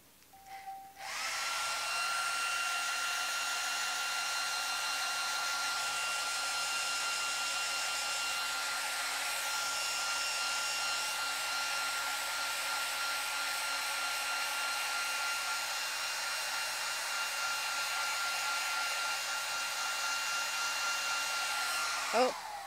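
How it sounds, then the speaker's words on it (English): A hair blow dryer switches on after a brief moment and runs steadily for about twenty seconds, a loud, even whooshing hum with a faint whine, nearby and alone before cutting off. "blow dryer is going to happen"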